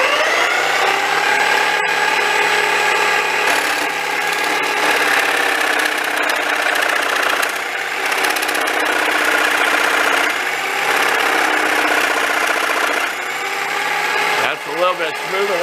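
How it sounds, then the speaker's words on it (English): A small tabletop saw fitted with a fine-tooth blade, likely around 24 teeth, runs and cuts metal with a loud, steady whining drone and shifting tones, a few brief knocks toward the end. "Let's turn this thing on and try the finer tooth blade,"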